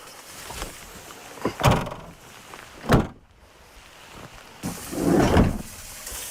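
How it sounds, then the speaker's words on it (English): Back doors being closed give a few separate knocks and thuds with shuffling and scraping between them, fairly close in a quiet room. "I'm gonna have to go close those back doors."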